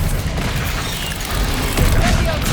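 Expelliarmus spell cast in Hogwarts Legacy amid combat: loud booming blasts and a dense crackling rush of magic, swelling near the end, with no talk.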